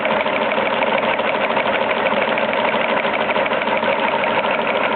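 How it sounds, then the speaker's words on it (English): A small brass model Stirling engine runs with a steady, busy mechanical whir and rapid clatter of moving parts, close and continuous throughout. "And they do make some noise, but that's unique for the engines themselves"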